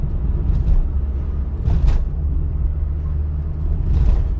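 Car driving along a city road full of potholes during a driving test, a loud steady interior engine and road rumble with a few brief bumps and thuds from the rough surface.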